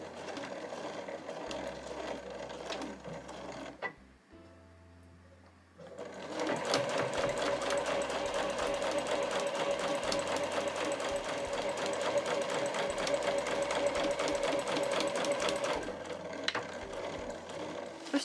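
Home sewing machine stitching No. 8 canvas for a tote bag, a close rapid rhythmic clatter that runs, stops briefly, then resumes steadily for a long stretch.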